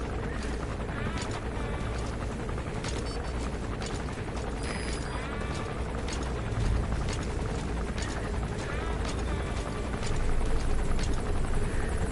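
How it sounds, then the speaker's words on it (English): Helicopter flying overhead in Metal Gear Solid V: The Phantom Pain, a dense, constant rotor chop and mechanical whir at steady loudness throughout, with no talk. "The helicopter's not good at spotting"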